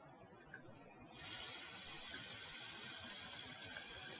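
A sink tap in the sci-fi game Born Punk is turned on and gushes water: after a second of quiet room tone, a steady, close hiss of running water starts and continues evenly to the end.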